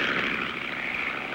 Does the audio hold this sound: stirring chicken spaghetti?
no